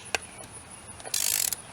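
Ratchet wrench tightening the corner bolts of a beadlock wheel ring at home, a brief rapid clicking burst after a couple of isolated metallic knocks, close and moderately loud.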